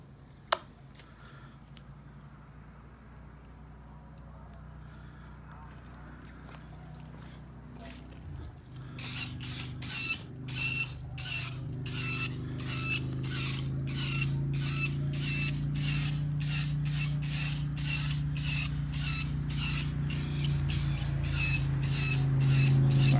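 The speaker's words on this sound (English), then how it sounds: "Usually use the Meguiar spray. It's an aerosol." A steady aerosol spray of Meguiar's tire shine hisses for about fourteen seconds after a quiet stretch, broken by faint clicks and small handling noises.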